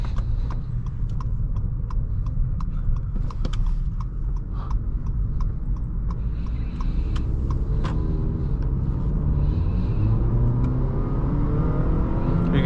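A 2019 Acura ILX accelerating hard in sport mode, its engine rumbling steadily from inside the cabin while the engine note climbs and drops sharply at quick dual-clutch gear changes, with a rising whine near the end.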